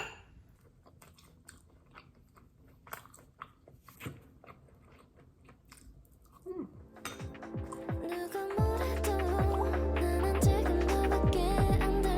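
Dishes, containers and cutlery clatter as a fridge is emptied, scattered light clinks and knocks at first, then busier, louder handling with steady clattering toward the end.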